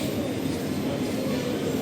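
A Tirupati Express train rolls into Puttur railway station, a steady low rumble of wheels and carriages running continuously, fairly close and without clear individual clacks.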